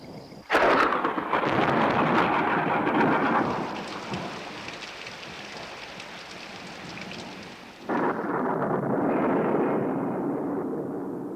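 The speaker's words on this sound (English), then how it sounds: "Eventually, the storm breaks, shattering the stillness of the night." A night thunderstorm over the Mai Po Marshes: a sharp crack of thunder breaks into heavy, roaring rain, which later eases before a second loud burst of thunder and downpour.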